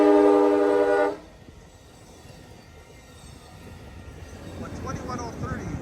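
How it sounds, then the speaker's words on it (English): A freight train passes near Crockett, California, opening with a loud, sustained horn blast that cuts off after about a second, followed by a steady low rumble of rolling cars, with a voice speaking near the end. "that train is going to Sacramento"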